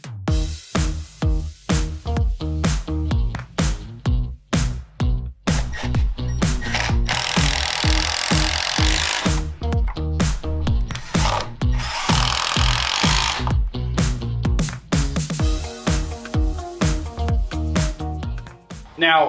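A power drill drives 2.5 inch Kreg jig screws to join wood pieces, with repeated whirring bursts, two longer sustained runs, and knocks between them, loud and close.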